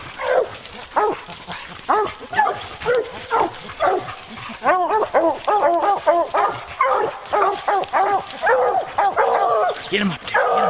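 Hunting hounds on a bear hunt bark and bay loudly and close by, with overlapping yelps and howling bays that come in rapid, repeated bursts throughout.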